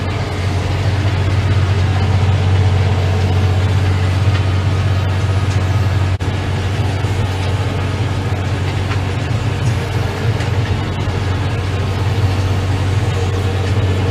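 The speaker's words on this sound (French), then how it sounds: "vous voyez que je monte dans l'utilisation du moteur. Mais voilà, c'est pour le tracteur, il ne peine pas pour faire ce travail là." A tractor engine labours steadily while driving a rotary harrow that breaks up hard soil clods, a loud, continuous low drone with a constant mechanical rumble and no pauses.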